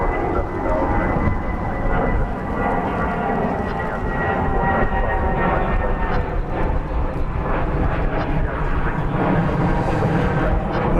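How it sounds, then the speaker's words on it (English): An airplane near DFW Airport gives a steady, broad rumbling roar that holds fairly even at a moderate distance, with faint voices at times. "This plane is on an unusual track."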